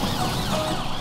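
Cartoon emergency truck sirens switched on, a loud wailing tone holding steady through a brief one-second burst.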